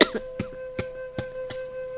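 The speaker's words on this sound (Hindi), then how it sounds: "चादर मुंह पर रखकर आवाज दबाकर खांसने लगी" A string of short, stifled coughs comes in a quick, regular rhythm over a faint steady tone, muffled and close.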